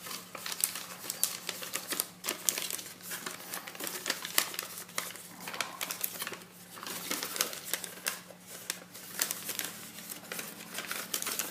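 Paper is folded and creased by hand while making an origami digitalis flower, giving close, steady crinkling and crackling with frequent sharp rustles and no speech.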